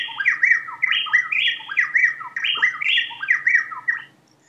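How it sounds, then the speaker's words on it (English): Two wrens trade rapid, bright chirping phrases in a lively duet, clear and close, alternating quickly for a few seconds before stopping. "So this is a different song, a different duet"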